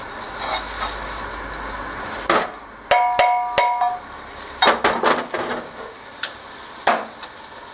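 Butter sizzling in a hot fry pan while a spaghetti sauce is started, with a steady crackling hiss under a string of sharp clinks and taps from a utensil against the pan.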